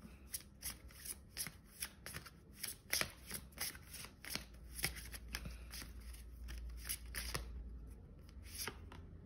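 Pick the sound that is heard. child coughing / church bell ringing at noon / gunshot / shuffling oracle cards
shuffling oracle cards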